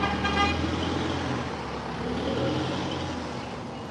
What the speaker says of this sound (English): It's a stop sign. I don't know why you're honking.